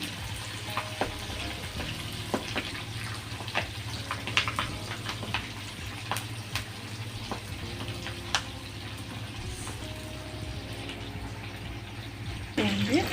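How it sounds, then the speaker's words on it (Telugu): Chicken 65 frying in hot oil with curry leaves and green chillies, a steady close sizzle with scattered crackles and pops, brief clinks of stirring throughout. "వేసి ఒక 5 నిమిషాలు ఫ్రై చేసుకున్నాం."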